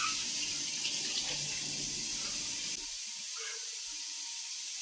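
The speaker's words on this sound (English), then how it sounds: "How's your water not coming on?" A touch-activated tap runs with a steady hiss of water that cuts off abruptly about halfway, leaving near silence.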